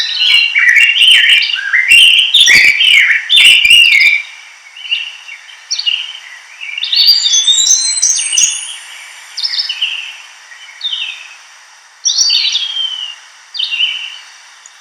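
Songbirds chirp and trill in quick bursts outdoors, clear and fairly close, with a few sharper calls early on and some pauses between phrases.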